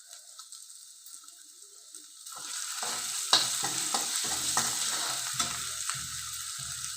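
Ginger and a pinch of asafoetida hit hot oil in a pan, starting as a quiet background hiss that swells after about two seconds into a steady loud sizzle with crackling pops and scraping stirs.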